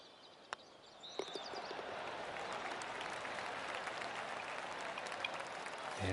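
Golf gallery applause in The Golf Club 2019 game, a soft, steady patter of many hands clapping that starts after a couple of isolated claps and holds faint and distant through the end.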